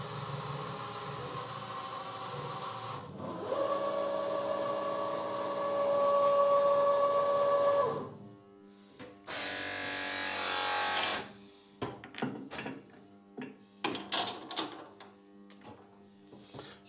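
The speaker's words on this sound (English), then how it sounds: "for this toolpath, just let me start it." A CNC milling machine runs a toolpath with a 6 mm six-flute carbide end mill, giving a steady whirring hum with a sustained tonal whine, a pause, a second burst of broadband cutting noise, then scattered clunks and taps.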